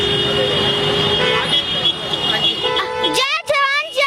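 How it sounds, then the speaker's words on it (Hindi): Vehicle horns honking in busy street traffic during a roadside gathering, a sustained blare that gives way to several sharp overlapping toots near the end, over constant road noise. "हॉर्न बहुत ज्यादा बज रहे हैं"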